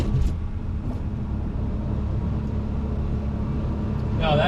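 A Porsche 993 Twin Turbo pulls hard in fourth gear on a test drive, its engine a steady, loud, deep drone that holds unbroken and swells slightly toward the end.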